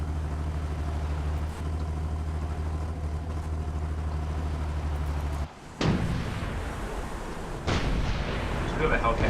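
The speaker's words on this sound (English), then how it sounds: "Shot killed the Hellcat." A tank cannon shot in War Thunder, with the Aubl/74 armored car firing at a distant Hellcat: a steady low engine rumble is broken near the six-second mark by a sharp, loud blast, and a second heavy boom follows shortly after.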